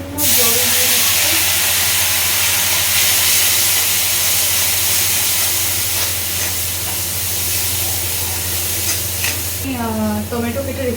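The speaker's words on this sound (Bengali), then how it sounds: "এবার মশলাটাকে ভালো করে কষাবো। সামান্য জল দিয়ে দিচ্ছি।" Spice masala for a Bengali fish curry sizzles loudly in a pan as a little water is added, a steady close hiss with stirring scrapes throughout, and a brief rising bubbly burst near the end.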